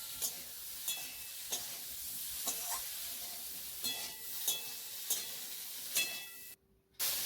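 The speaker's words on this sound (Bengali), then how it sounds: "1 চামচ জিরে গুঁড়ো দিয়ে ভালো করে মশলাটা সবজির সঙ্গে মিশিয়ে দিচ্ছি।" Vegetables with fenugreek leaves, turmeric and cumin powder stirred in a pan, with a soft steady sizzle broken by regular scraping strokes about once a second, quiet and close, ending in a short pause.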